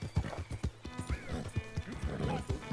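A horse in Red Dead Redemption 2 gallops with rapid, evenly spaced hoofbeats and gives a brief neigh partway through, moderately close and fairly quiet throughout.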